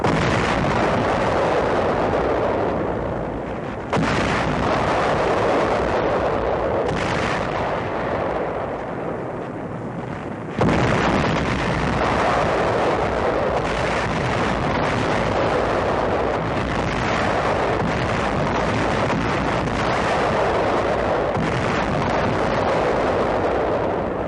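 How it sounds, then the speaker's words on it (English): Series of violent ammunition dump explosions at an American depot on Okinawa in July 1945, heard as continuous heavy booming and rumbling blasts with a brief lull, loud and dense throughout with no voices. "An American ammunition dump on Okinawa suffers a series of violent explosions."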